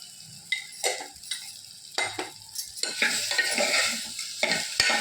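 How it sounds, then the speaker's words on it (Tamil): Vegetables sizzle in a pan over a low flame while a utensil stirs and scrapes with repeated sharp clicks, close and steady. "லோ ஃப்ளேம்லேயே வச்சு வதக்குங்க, அப்போ தான் அடி பிடிக்காமல் இருக்கும்"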